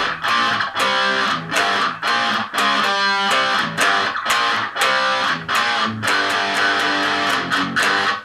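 A riff played on a distorted electric guitar, loud, chunky power-chord stabs in a steady repeating pattern with brief gaps between phrases.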